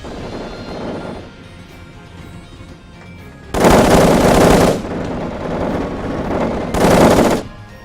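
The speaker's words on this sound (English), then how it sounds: "Unfortunately, I'm also shooting my own ship" Rapid machine-gun fire rattles in the LuckCatchers video game as ships are shot. Two loud, sustained bursts of automatic gunfire stand out over quieter background shooting and game noise.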